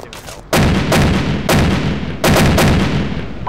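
Three heavy, booming bursts of Bradley fighting vehicle cannon fire in the video game Arma 2, each a loud sharp report with a rolling tail, spaced about a second apart.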